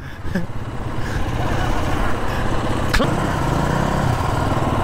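A KTM motorcycle engine runs with the clutch pulled in, a steady close rumbling drone with one sharp click partway through.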